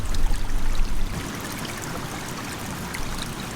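River water rushes through a gold-panning sluice box in an Italian river, a loud steady gushing wash that starts with a heavier low surge and then settles into an even flow.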